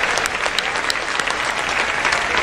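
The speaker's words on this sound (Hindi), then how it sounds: "मैं आपके लिए ताली बजाना चाहता हूँ।" Dense, sustained applause fills the hall at a poetry recital gathering, a loud, continuous wash of many hands clapping with no break across the whole stretch.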